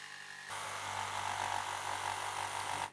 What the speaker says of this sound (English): Now cut the curve using a jigsaw.